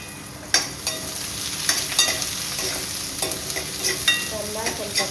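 Mustard seeds, onion and curry leaves sizzle in hot oil for an egg gravy, a steady crackling fry close by with intermittent scraping and stirring knocks.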